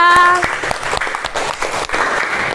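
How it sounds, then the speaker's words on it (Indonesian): An audience at a PRJ fair talk bursts into loud, sustained applause, dense clapping filling the space with a brief voice at the start. "Beri tepuk tangan untuk Mbak Novia."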